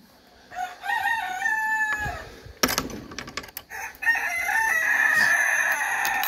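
A backyard rooster crows close by, giving two full cock-a-doodle-doo calls with a clattering, rustling pause between them, while other hens cluck faintly in the background.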